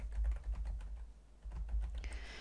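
Computer keyboard typing in a steady run of key clicks, close and fairly quiet, with a short pause partway through and no voices.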